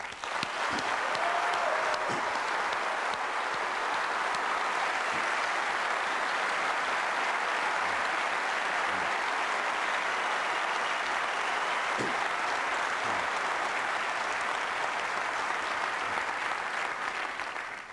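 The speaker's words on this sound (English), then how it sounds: "I would like to give a round of applause to all of our software engineers in the audience." At a 1999 Apple special event, the audience applauds the company's software engineers with sustained, even clapping from a large crowd in a hall, a continuous loud roar of hands that carries on unbroken for many seconds.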